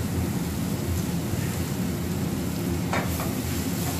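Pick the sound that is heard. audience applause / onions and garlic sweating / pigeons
onions and garlic sweating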